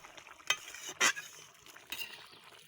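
Potato curry with lentil-and-egg fritters simmering in its gravy, a soft bubbling bed punctuated by a few brief louder stirring scrapes close by, with no talking.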